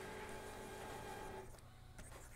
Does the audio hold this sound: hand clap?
no